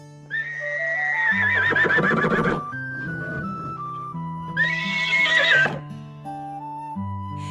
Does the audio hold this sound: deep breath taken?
no